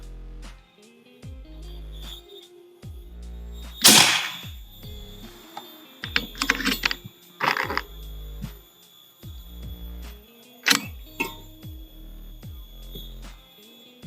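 A PCP air rifle by AFC fires at a brick target, giving a sharp crack followed by a few brief impact bursts and later another snap, all over a repeating low thumping hum with no talk.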